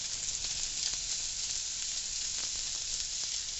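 Pork pieces sizzle steadily in a pan as lard renders out for chicharrones, a dense, continuous hiss close up with faint crackles scattered throughout and no voices.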